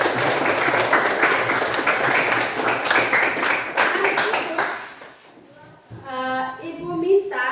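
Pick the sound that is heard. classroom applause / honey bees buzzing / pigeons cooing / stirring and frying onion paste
classroom applause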